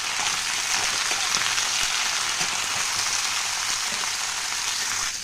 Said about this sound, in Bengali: সুন্দর করে নেড়ে নেড়ে সবজিটাকে ভেজে নেবো